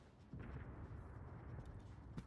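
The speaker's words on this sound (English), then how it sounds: "And the coastal guns are firing" Coastal guns firing in a naval battle video game, a faint, muffled low boom followed by a rolling rumble, heard quietly and at a distance.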